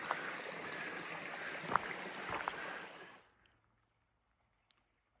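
Trapyard Creek in the Snowies alpine country rushes in a steady broadband wash for about three seconds, then the sound cuts off abruptly into near silence with a faint tick or two.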